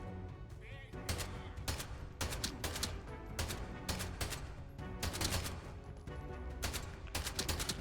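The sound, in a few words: semi-automatic gunfire from the Atomfall video game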